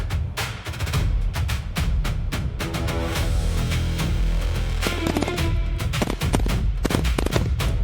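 Rapid bursts of modern automatic weapons fire crackle and pound in dense, overlapping volleys, loud and continuous with sharp individual shots punctuating the barrage.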